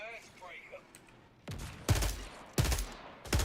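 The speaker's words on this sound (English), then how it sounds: "See some grenades going off." Video-game gunfire and grenade blasts: faint sounds at first, then three or four sharp, loud bursts of shots and explosions in quick succession, close by.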